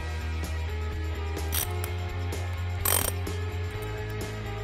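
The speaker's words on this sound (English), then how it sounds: "close the bleed plug fully and tighten it" A wrench tightening a bleed plug on an Athalon hydraulic filter, a close run of rapid ratcheting clicks over a steady mechanical hum, with a couple of brief louder rasps.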